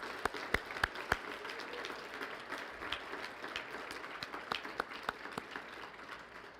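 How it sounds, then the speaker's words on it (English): Steady applause from a crowd at a Special Olympics New Mexico torch run ceremony, sustained and moderately distant, with a few sharper nearby claps standing out at the start and end. "Let's give a round of applause as the torch"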